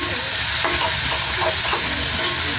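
Beef intestines and fat frying in a pan, a loud continuous sizzle with faint stirring scrapes and no talking.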